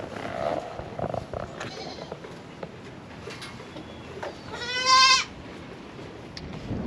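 A baby goat out in an ice storm gives one clear, wavering bleat partway through, surrounded by faint outdoor patter and rustling.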